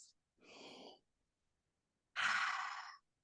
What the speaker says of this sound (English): We're going to breathe in, like making a mask.